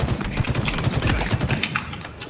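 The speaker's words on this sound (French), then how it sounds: "Le bruit que vous venez d'entendre, les gars, c'est quand tu récupères ton bouclier" Shield recharge effect in Halo Infinite, a bright rising electronic whir layered over busy game noise with rapid pulsing gunfire-like clatter throughout.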